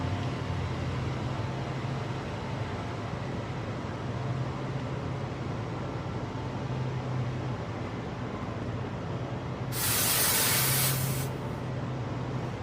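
Refrigerant hissing steadily as 410A is purged through an HVAC gauge hose, a continuous airy rush over low hum, with a brief louder sharp burst of spray near the end.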